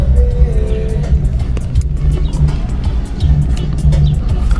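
A Toyota Hilux engine rumbles low and steady at a Te Marua family speedway, close and loud, with crowd chatter and scattered sharp pops in the background.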